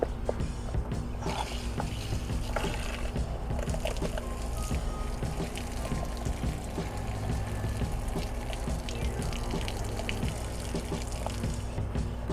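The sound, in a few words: water purging from RV outside shower line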